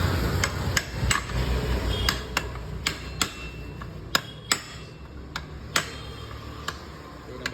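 Sharp metal taps ring out one after another at an uneven pace, close and loud, as a clutch shoe is knocked into place on a two-wheeler by hand without proper tools.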